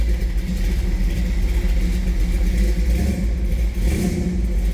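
A 1956 Chevrolet 3100 Stepside truck engine rumbles steadily at idle, a deep, close, continuous low drone with slight swells, heard alone.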